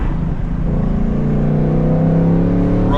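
A 2024 Ford Mustang Dark Horse engine pulling hard in second gear, a loud close-up droning growl whose pitch climbs steadily as it accelerates, with a quick change at the very end.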